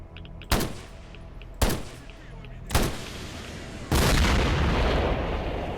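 Sniper shots in S.T.A.L.K.E.R. Shadow of Chernobyl, three loud single cracks spaced about a second apart, each with a short echoing tail, followed by a longer sustained blast of gunfire noise.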